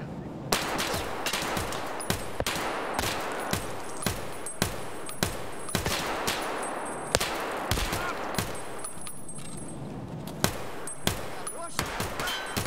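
Rapid bursts of gunfire from several shooters in Escape From Tarkov, sharp loud shots cracking in irregular clusters across the whole stretch, some close and some further off, over a constant low ambient rumble.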